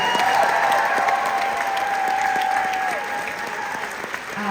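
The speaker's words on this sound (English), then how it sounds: "Huge round of applause." Concert applause rolls through a venue at a show, sustained clapping from a large crowd that fades slightly toward the end, with a faint held tone underneath.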